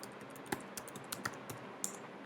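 Keys on a computer keyboard are tapped in a short, irregular burst of crisp clicks, close and clear with no talking.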